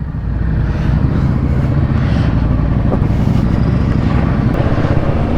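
A motorcycle fitted with a new Screaming Eagle exhaust runs with a loud, steady, deep rumbling drone that stays constant without clear revving.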